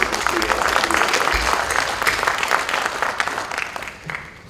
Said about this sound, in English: So let's give a hand and clap to all the fellows this year.